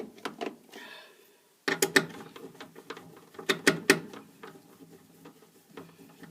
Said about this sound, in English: I'm just using nut drivers here